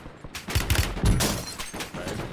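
Close, loud video game gunfire bursts out in quick rattling volleys of several shots, with no talking over it.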